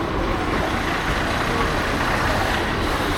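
A crowded passenger bus pulls in at a stop near Sawantwadi, a steady loud engine rumble and road noise filling the whole stretch without a break.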